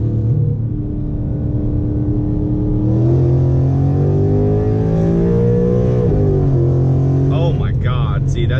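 A modified Ford Mustang pulls hard from second gear, its engine note rising loudly and steadily in pitch with a brief dip near a shift, heard close from inside the car, with heavy road rumble beneath.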